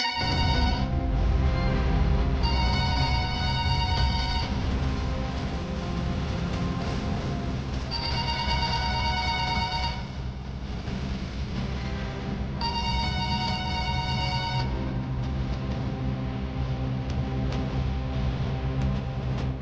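A telephone ringtone plays in repeated bursts with short gaps between them, loud and continuous, in a domestic drama scene with no speech over it.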